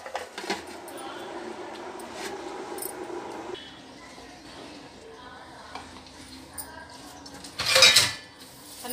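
A lid is set down onto a pot of cooking upma with a sharp metallic clink near the end, after steady kitchen clatter and a low simmer.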